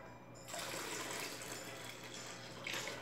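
Tap water gushes steadily into a plastic bucket, one litre per bucket, while making homemade soap that failed to harden; a continuous splashing fill, fairly close, with no talk.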